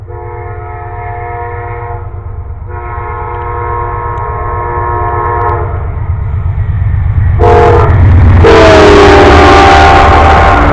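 A train rumbles closer while its horn blows in two long sustained blasts, then grows much louder with harsh rushing and clanking as it passes close by.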